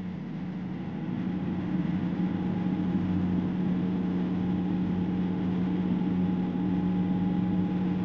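An electric mixer grinder blends whole spices into a fine paste inside a mixing jar for prawn malai curry, giving a steady, loud motor whir with an even hum that runs unbroken for the whole stretch, with no talking.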